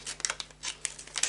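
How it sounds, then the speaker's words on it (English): Quick snips of scissors cutting through plastic, several sharp crisp cuts with light crinkling between them, close up. "I'm going to use my scissors to open up the bag"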